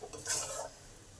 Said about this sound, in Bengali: ভালো করে নেড়ে নেব। মশলার কাঁচা গন্ধটা গেলে তারপরে জল দেবো।